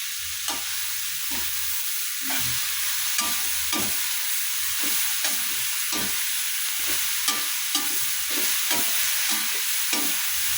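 Bitter gourd (ampalaya) frying in an open pan, stirred with repeated scraping strokes in a steady uneven rhythm over a continuous close sizzle, with no talking.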